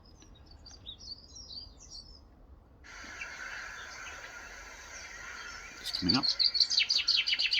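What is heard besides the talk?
chaffinch song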